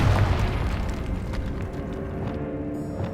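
A Confringo blasting spell exploding in the Hogwarts Legacy video game, a deep boom at the start decaying into a rumbling roar.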